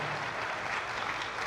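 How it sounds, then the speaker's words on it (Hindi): Audience applause at a church gathering, a short burst of dense, continuous clapping heard fairly faintly. "ताली बजती रहनी चाहिए,"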